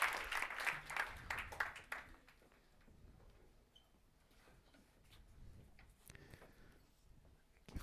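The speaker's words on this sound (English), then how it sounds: "let's give a big round of applause to all the speakers." An audience at an impact investing evening applauds the panel speakers, a brisk burst of clapping for about two seconds that quickly dies away into a quiet room with faint ticks and shuffles.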